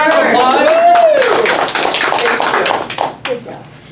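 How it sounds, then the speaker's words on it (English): A small audience at a Toastmasters club meeting claps in scattered, sharp bursts under a speaking voice, and the clapping thins out toward the end. "Let's give Julie a round of applause."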